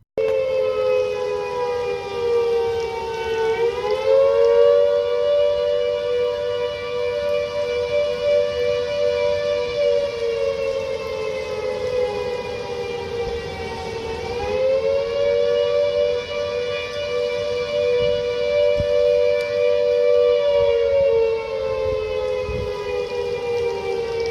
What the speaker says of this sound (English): they've used these sirens in Todmorden, to warn of flooding